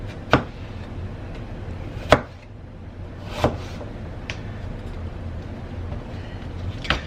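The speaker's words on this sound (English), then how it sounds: "I'm going to go ahead and slice the rest of these up" Knife slicing quartered green apples into small chunks on a board, producing about five sharp, separate chops spaced a second or more apart against a quiet background.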